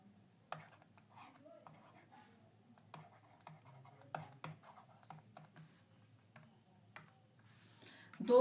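Faint scratchy pen or stylus strokes and light taps as answer options are written out for a physics exam question, quiet and close, in short irregular bursts.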